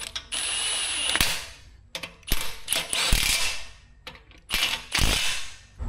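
A torque wrench ratchets while bolts are tightened during an engine rebuild, sounding as several bursts of rapid, close clicking separated by short pauses.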